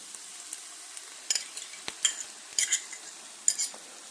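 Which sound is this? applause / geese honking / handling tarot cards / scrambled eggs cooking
scrambled eggs cooking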